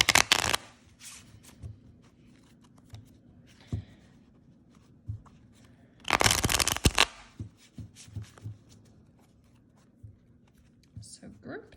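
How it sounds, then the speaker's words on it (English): Tarot cards riffled and shuffled in several bursts, one long loud flurry in the middle, with quieter handling sounds and a soft voice between. "I'm going to shuffle a few times here."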